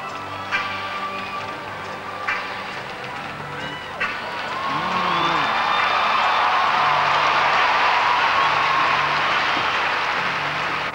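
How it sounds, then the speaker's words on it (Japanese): A large indoor arena crowd at a gymnastics world championships bursts into loud, sustained cheering that swells and holds, following a few sharp thuds and a short burst of whistling. "場内大歓声です"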